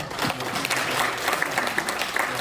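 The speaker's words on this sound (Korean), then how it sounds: "혹시 한번 박수로." A congregation at a church thanksgiving service gives a short burst of moderately loud clapping, an even patter of many hands lasting a couple of seconds.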